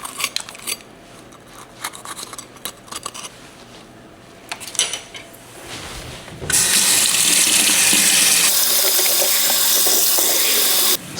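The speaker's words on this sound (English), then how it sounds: "These grow outside and need to be washed." Sweet potatoes washed under a running kitchen tap: after several seconds of soft handling clatter, water gushes loudly and steadily into the sink, close and continuous to the end.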